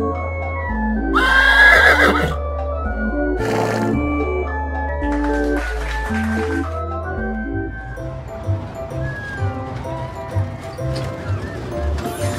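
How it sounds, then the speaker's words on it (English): A horse neighs loudly near the start and again a little later, followed by lighter rhythmic clip-clop sounds amid amusement park ride noise and music, with children's voices around. "I'm riding a horse."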